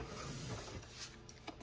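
A paper trimmer slices through cardstock photo mats, giving a soft, steady rasping cut close by that lasts about a second and a half and ends with a small click.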